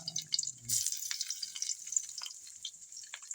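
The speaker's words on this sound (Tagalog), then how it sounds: "Yan mga idol, gigisahin ko na." Garlic sautéing for lagikway, a Filipino vegetable dish, with a sudden sizzle as it hits hot oil, then a steady crackling fry and a few scattered pops.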